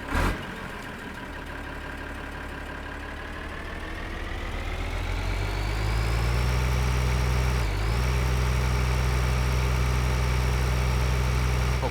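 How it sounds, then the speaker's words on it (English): A tractor engine idles in the Farming Simulator 2013 video game, a steady low diesel drone that slowly rises in pitch and loudness, steadies, then dips briefly before settling back into a continuous hum. "Let's see if I can find another tractor."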